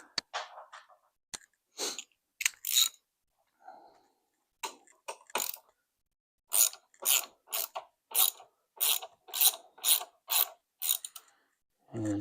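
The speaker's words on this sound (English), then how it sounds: "3/8 ratchet" A 3/8 ratchet wrench clicks during race prep on an RS 660 motorcycle, with short, close runs of quick ratcheting clicks broken by quiet pauses, then a longer steady series of repeated clicks.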